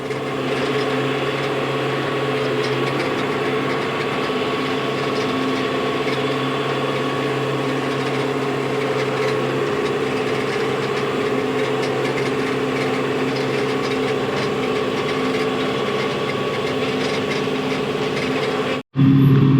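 Tractor pulling a chisel plow through compacted field soil on a medium-sized field, a steady loud engine drone with mechanical rattling and gear whine, continuous and close, cutting off abruptly near the end.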